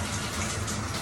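Hot shower water at maximum heat runs steadily in a steamy bathroom, a close, continuous broadband hiss and spatter with no breaks over about a second.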